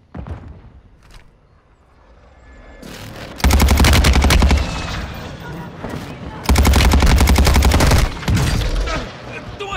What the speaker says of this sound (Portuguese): Estou atirando aqui!